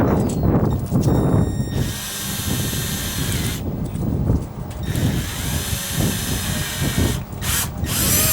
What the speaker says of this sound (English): Just drilling in through into the top a little bit there